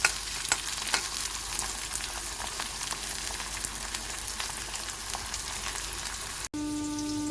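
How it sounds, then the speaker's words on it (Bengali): Onion frying in oil with whole garam masala for a potato curry: a dense, continuous crackling sizzle with occasional stirring pops, steady and close, ending with a cut to a brief musical tone. "প্রথমে পেঁয়াজটাকে ভেজে নেব তেলে, গোটা গরম মশলা দিয়ে তার সাথে পেঁয়াজটাকে ভেজে নেব।"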